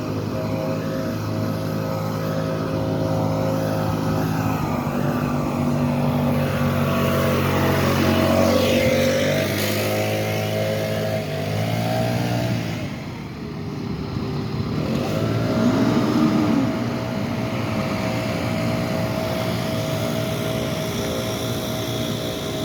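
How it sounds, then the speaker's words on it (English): Heavy roadwork machinery grinds along, with an asphalt truck working during road milling on Randolph Avenue. A loud droning engine with shifting whines rises and falls, nearby and continuous throughout. "I think that's the asphalt truck"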